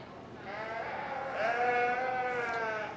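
A single drawn-out bleat from a lamb at a sheep show, close and clear, rising in strength midway and trailing off, with no other sound over it.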